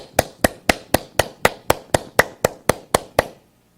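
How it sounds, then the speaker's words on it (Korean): A single person claps twelve times, sharp and close, at a steady even rhythm, then stops. "그리고 저를 위하여, 그리고 여러분을 위하여 박수로 환영해 주세요."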